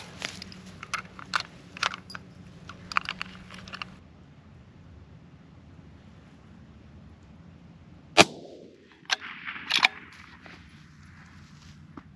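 Rifle shots from a Ruger American Predator in 6.5 Creedmoor, fired outdoors at long-range targets: several sharp cracks at first, then a pause and a louder, closer report with a ringing tail, followed by a few more snaps.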